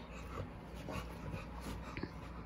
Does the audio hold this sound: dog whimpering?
yes